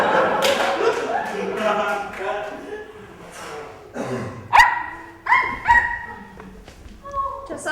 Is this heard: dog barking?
yes